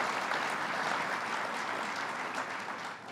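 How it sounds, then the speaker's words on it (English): A crowd at a Western New York budget announcement with Governor Cuomo gives a round of applause, steady dense clapping that stays fairly even before tapering slightly at the end. "Give him another round of applause."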